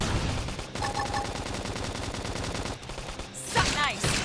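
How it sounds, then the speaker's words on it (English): A flame grenade attack in Xenoblade Chronicles X combat erupts as rapid crackling bursts and booming impacts layered over game effects, with a sweeping whoosh near the end. "Flame grenade!"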